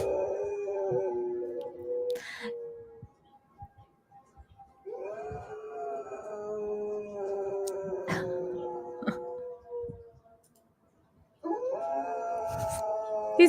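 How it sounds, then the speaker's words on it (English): A dog howls along with sirens in three long, drawn-out wails separated by short pauses, each rising and sliding in pitch, fairly close. "He was so into the howling."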